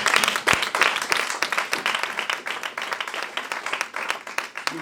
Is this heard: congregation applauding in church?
yes